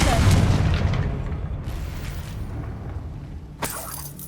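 Confringo explosive spell in Hogwarts Legacy bursting with a heavy, loud boom that fades into a rumbling tail, followed by a sharper crack and brief shattering burst a few seconds later.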